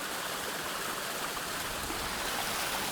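A waterfall in a snowy outdoor setting rushes with a steady, even hiss of falling water, constant and moderately distant for a few seconds, with no voices.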